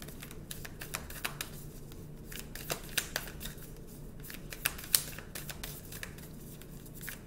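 Tarot cards are shuffled close up, giving a quiet, continuous flutter of riffling and sliding cards broken by small sharp snaps and taps.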